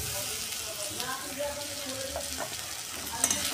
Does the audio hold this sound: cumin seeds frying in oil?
yes